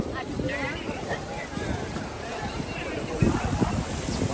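Strong wind gusts buffet a tour boat at Niagara Falls, a steady broadband roar with faint water wash underneath and muffled chatter from a crowded deck.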